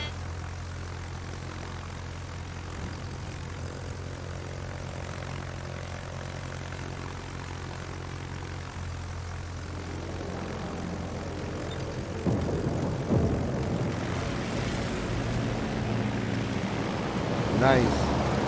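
Carrier aircraft from the German carrier Rhein in World of Warships give a steady propeller engine drone that swells louder toward the end, mixed with ocean wash.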